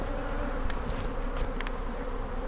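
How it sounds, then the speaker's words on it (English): Nurse honey bees shaken from a hive frame hum in a dense, continuous buzz, close and steady, with a few brief sharp knocks or taps partway through. "Now I'm gonna bring some bees over here, shake them."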